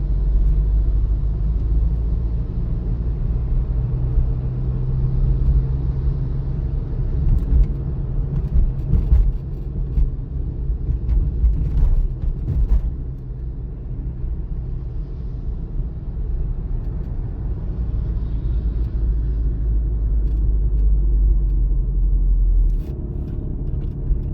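A car driving on a road during a driving exam in Ukraine, a steady low engine and tyre rumble heard from inside the cabin, continuous and fairly loud throughout with faint shifts, with no talking.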